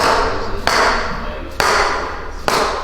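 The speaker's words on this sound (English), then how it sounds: "Yeah, I got a big hammer." Three sharp, evenly spaced hammer-like strikes land about a second apart during a chiropractic adjustment, each loud and close over a steady background hum.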